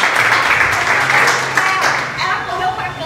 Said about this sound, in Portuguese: Vamos aplaudir a Jesus, Deus é bom.